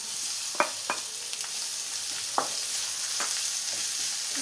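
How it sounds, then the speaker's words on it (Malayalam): Sliced onions sautéing in a pan of oil for a Kerala-style mutton stew give a steady, close sizzle, punctuated by a few sharp clicks of a spoon stirring against the pan. "സവാളയെല്ലാം കളറെല്ലാം നന്നായി മാറി വരുന്നവരെ ഒന്ന് വഴറ്റിയെടുക്കണം"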